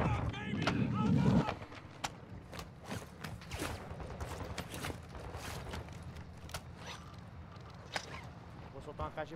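Gunfire in the video game DMZ, with sharp shots and sniper cracks scattered at varying distances over a low rumbling bed, mostly under players talking.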